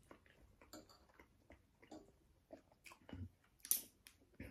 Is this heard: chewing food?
yes